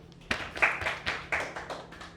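A second-year high school class claps for a classmate, a handful of sharp, close hand claps coming in an uneven loose patter that trails off quickly.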